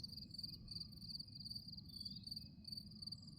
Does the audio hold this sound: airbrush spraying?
no